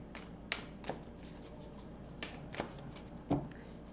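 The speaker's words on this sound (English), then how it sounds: "So let's pull one last card here for our closing thought for Libra." Tarot cards shuffled and drawn during a forecast reading, quiet riffling and soft flicks with a few sharper snaps and taps spaced across the moment, close and alone.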